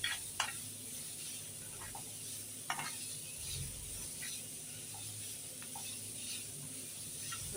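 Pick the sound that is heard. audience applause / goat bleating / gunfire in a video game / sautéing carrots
sautéing carrots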